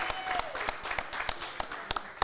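Crowd clapping and cheering at Joe's during a Chicago Bears NFL Draft watch party, with dense applause and sharp individual claps. A voice talks over it briefly.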